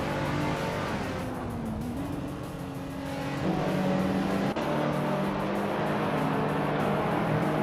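Race cars in a video game roar past one another, their engines whining and rising in pitch through gear changes, up close and loud, with several overlapping motors and no talk.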